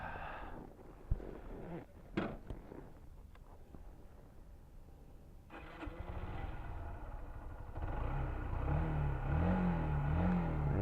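A Yamaha YBR125 motorcycle engine starts and idles with a low, steady throb, then revs up and pulls away, growing louder toward the end, with no talk over it.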